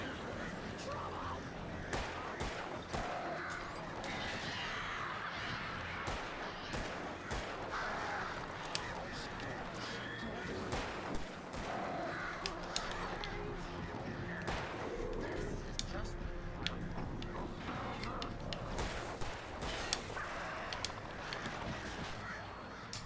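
Attacking birds caw and flap in the video game Alan Wake Remastered, a dense, busy flurry of harsh calls and sharp impacts lasting throughout at moderate loudness.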